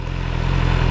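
A BMW S1000R motorcycle engine rumbles steadily up close, a loud, continuous low idle lasting about a second.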